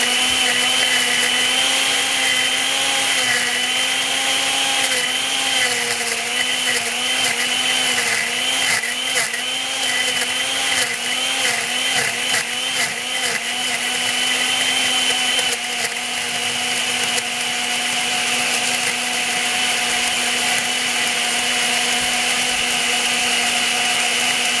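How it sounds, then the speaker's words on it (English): An electric blender whirs loudly while blending a banana smoothie, a steady high-pitched motor whine that churns and wavers as the contents mix, running continuously for the whole stretch with no talk. "So now you're gonna blend it up."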